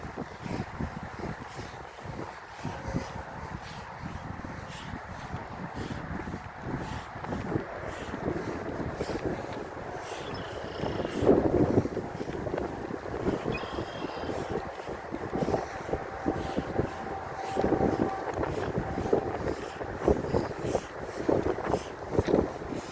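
Gusty wind buffets the microphone during an outdoor walk through a park in Kansas, a rumbling, uneven roar that swells and fades in waves over a long stretch, with no talking.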